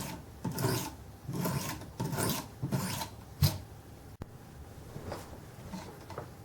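A knife edge rasps against a 100 grit stone on a Wicked Edge guided sharpener. Five or six steady rubbing strokes sound close up, then a sharp click, followed by quieter, fainter scraping.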